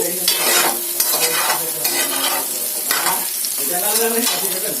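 Sliced radish and onions fry in a pan with steady sizzling, broken by rhythmic scraping strokes as the pieces are stirred, close and loud.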